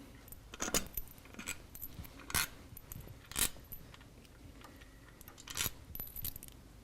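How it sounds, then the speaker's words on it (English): Steel bolts from a Harley-style motorcycle cam chest cover clink sharply several times, in scattered metallic taps against a quiet workshop background. "So we can get these bolts out of here, because we're probably going to drop them."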